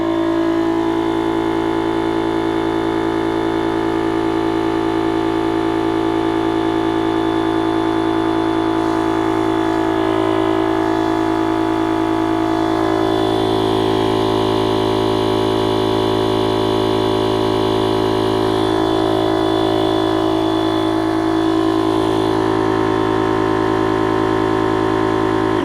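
A steady electric air pump inflating a PVC boat drones with a constant, buzzing hum, unchanging and fairly loud, with no voices over it.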